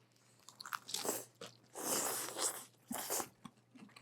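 Crunchy bites into a fresh salad with cucumbers and pickled purple onions, several loud, close crackling chews in bursts over about four seconds, with no talking.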